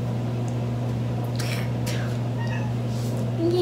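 A house cat meows a few short, fairly faint times while trying to climb into a bathroom sink, heard over a steady low hum with no talking.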